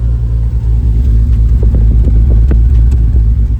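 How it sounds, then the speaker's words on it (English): A BMW E34 M5 exhaust rumbles steadily at idle, deep and loud, with a few small pops and ticks over the low drone. "That exhaust sounds good."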